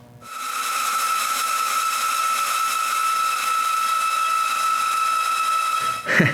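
A homemade wooden band saw with a wider blade mounted backwards runs against a marked line in wood, giving a steady loud whine and airy hiss that starts almost at once and holds evenly for about six seconds, with a brief bump at the end.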